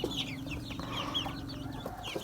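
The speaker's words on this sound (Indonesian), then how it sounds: "Seperti ini ayam Barred Rock." Barred Rock chickens cluck in a steady run of soft, overlapping calls against a busy poultry-yard background, with a few sharper notes on top.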